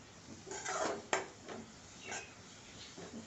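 A spatula mixes vegetable momo stuffing with coriander in a pan, with a handful of rough scraping strokes and one sharp clack against the metal, close and fairly quiet, and no voices.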